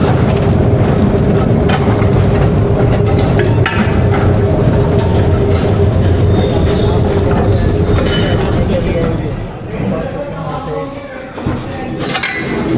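A train rolls through the Khewra salt mine tunnels, giving a steady, loud rumble with metallic clinks and rattles. It quiets toward the end as the train slows at a junction.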